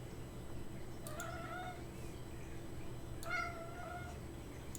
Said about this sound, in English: My cat's hungry.